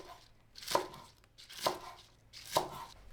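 A knife chops onion and spring onions on a board: three quiet, evenly spaced chops, each a crisp close knock separated by brief silence.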